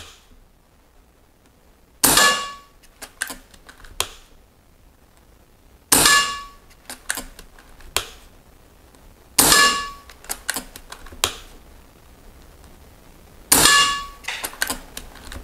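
Four sharp air rifle shots firing diabolo pellets in a precision test, spaced a few seconds apart, each a loud crack followed by a brief metallic ring and light clatter.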